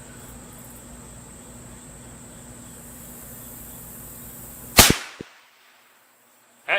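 A single loud, close rifle shot from a .450 Bushmaster firing Remington 260-grain ammunition cracks out outdoors, followed by a short decaying echo, then near silence and a brief later click.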